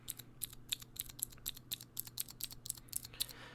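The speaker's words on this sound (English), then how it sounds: "Very clicky, very loud, depending on the blue switches that you get, but all of them are relatively loud and clicky, just like this." A mechanical keyboard with blue switches gives rapid, crisp clicks, over a dozen sharp taps in an uneven typing rhythm, close up and fairly quiet.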